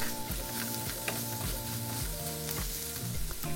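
Garlic and potatoes sautéing in a hot pan, a steady, dense sizzle running throughout with faint clinks of stirring, close and continuous with no voices.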